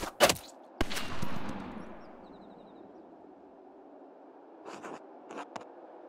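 Two sharp, loud video game gunshot cracks in Pentiment go off in quick succession, the second followed by a whooshing tail, then a few fainter clicks and a softer burst.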